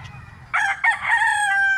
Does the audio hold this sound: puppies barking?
no